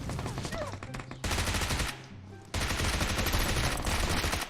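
Sustained automatic gunfire in PUBG Mobile, with long bursts of rapid shots broken by a short lull before the firing resumes, loud and close.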